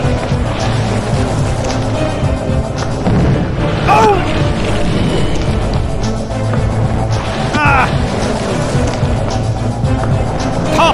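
Bombs and explosions in a Team Fortress 2 match on the Redline Rumble map, dense booming bursts and chaotic game sound effects crowding together, with brief chirpy effects, loud throughout.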